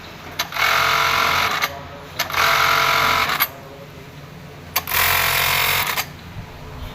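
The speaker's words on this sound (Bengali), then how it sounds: "এখন প্যাডেল চাপ দিলাম, এটা এখন মেশিনটা চলতেছে।" A KE-430FS sewing machine, recovering from an error 200 fault, runs in three loud, close bursts of fast whirring stitching as the pedal is pressed and released, with short pauses between them.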